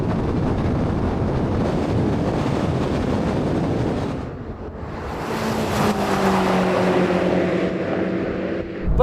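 Old car racing against a hybrid, its engine roaring loudly with heavy wind buffeting, briefly easing off midway before surging again with a rising engine tone.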